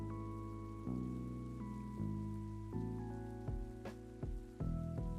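Rain weather effect in a Pokémon video game battle, a steady soft patter running beneath loud, layered battle music that changes chords several times.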